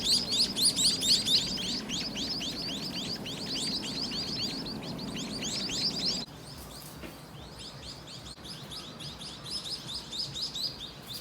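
Small birds chirping around a nest near jungle in Unawatuna, Sri Lanka, a dense rapid run of high tweets that thins out midway, then picks up again, close and steady.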